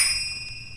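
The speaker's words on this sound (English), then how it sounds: "bells," Bright sustained metallic bell tones ring out with steady high overtones, a clear ringing that holds through the short moment over a faint low rumble.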